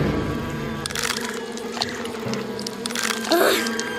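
Cartoon grasshoppers buzz around a tomato garden, a busy insect drone with scattered swells and squelchy bits across the whole stretch, no words spoken.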